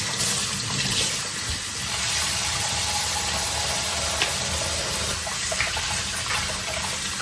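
Dried fish being washed in water, with a steady running, splashing wash throughout and no talk.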